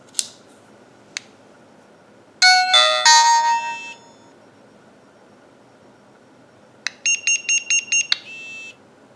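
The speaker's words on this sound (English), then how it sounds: "There is a distinctive tone that sounds with 5 additional beeps to indicate that the recording is in progress." Alone in quiet, a VeriPic 1 body-worn camera plays a short melodic electronic recording-start tone, then after a pause five quick evenly spaced beeps follow, with faint clicks around them.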